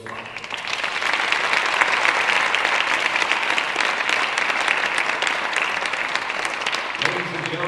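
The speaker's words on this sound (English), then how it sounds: "Can we have a collective round of applause for all 5?" An audience at the DP World Pavilion at Dubai Expo 2020 gives a sustained round of clapping for five EarthShot finalists, a dense even wash that fades slightly near the end.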